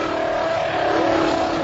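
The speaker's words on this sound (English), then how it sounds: "Jensen kindly demonstrates what would have happened if he'd used full power from the start" A Honda Formula 1 car screams at full power with wheel spin, its high-revving engine bouncing off the rev limiter near 18,000 RPM, a loud, sustained, close roar with no voices.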